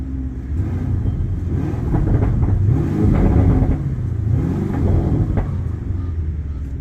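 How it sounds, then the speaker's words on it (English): A 2021 Lamborghini Urus engine revved several times in Corsa mode, deep loud rumbling swells rising and falling in close succession over a steady idle. "rev it up a few times in Corsa mode"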